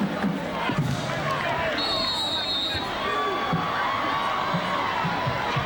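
A crowd fills a football stadium at a 2004 Liberty versus Bethlehem Catholic varsity game, a broad steady murmur with scattered shouts, a brief whistle-like tone and a commentator talking over it.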